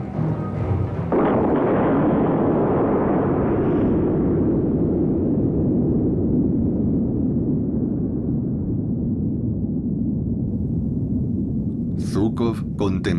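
Soviet atomic bomb test detonated at high altitude south of the Ural Mountains: a loud sudden blast swelling into a long, deep rolling rumble that slowly fades, with sharp crackling bursts near the end.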